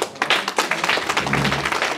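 An audience claps and cheers for a newly elected official at an investiture ceremony in Nanterre, a burst of close, dense applause lasting a couple of seconds.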